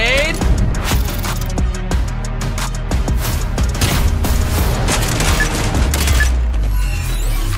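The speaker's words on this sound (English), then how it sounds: "Flash grenade." A flash grenade and gunfire in the video game Spectre Divide, a dense run of sharp bursts, booms and mechanical clatter, loud and close throughout under a voice.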